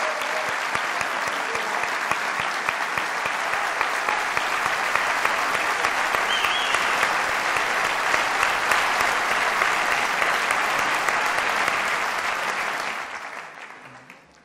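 Sustained audience applause at a Spanish socialist (PSE-EE) campaign event presenting party candidates, a dense, steady wash of many hands clapping for about thirteen seconds before fading out at the end.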